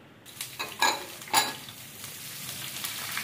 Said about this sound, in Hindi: अब इसमें ऐड करेंगे स्लाइसेस में कटा हुआ प्याज